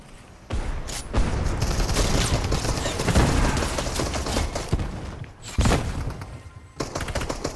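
SMG gunfire in the battle royale game Fortnite: rapid automatic bursts crackle loudly and close, broken by brief gaps and sharp restarts, with thuds and impacts mixed in.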